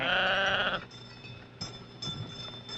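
Sheep kept by Navajo shepherds bleat loudly in one long nasal cry at close range, followed by fainter, scattered bleats and shuffling.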